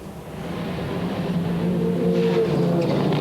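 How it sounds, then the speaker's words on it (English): Ferrari, Venturi and Porsche GT race cars at the start of a 1994 BPR race at Vallelunga, a steady loud engine roar building slightly as the field accelerates, with no talk. "And so to the start of the race, with Olafsson trying to make that Ferrari last all the way through to the end this time."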